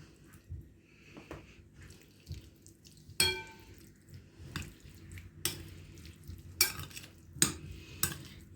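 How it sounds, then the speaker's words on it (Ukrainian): Tuna and beans in sauce being mixed into a salad, with a series of scattered utensil scrapes and clinks against a bowl, some sharp and close, amid soft wet stirring sounds and no talking. "Я це все добре перемішую."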